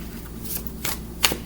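A deck of tarot cards being shuffled by hand: a few soft, quick riffling bursts close by, with a faint low hum underneath.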